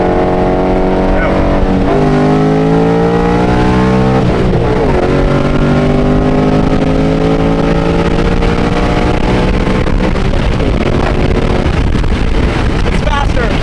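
Tuned Ford Mustang S650 running E85 fuel, engine revving hard through rising and falling sweeps, loud and close with heavy wind buffeting, a couple of gear-change dips near the start and voices talking over the roar.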